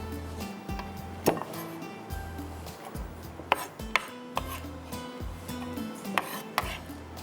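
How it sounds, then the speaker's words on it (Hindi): Knife chopping ingredients finely on a board while cooking Hyderabadi anda pulao, a series of irregular sharp thuds and clacks with scraping in between, fairly close and with no talk. "इसको भी बारीक चॉप करेंगे"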